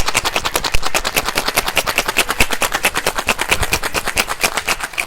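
Rapid, steady rattling of ice inside a cocktail shaker mixing a peated whisky cocktail, loud and close, a continuous rhythmic clatter lasting several seconds.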